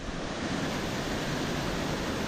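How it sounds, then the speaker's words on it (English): Water pouring down the lower falls of Five Springs Creek, a steady, dense, continuous roar with no break or voices. "That's the lower falls."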